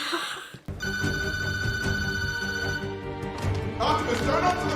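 A telephone bell rings in a scene from a Disney family movie set in a large mansion, a steady loud trilling ring over background music, with voices and other sounds coming in near the end.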